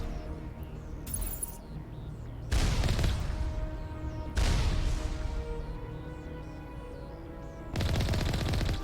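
Bursts of gunfire from the Mass Effect video game, with three or four loud volleys separated by gaps of echoing game ambience and music.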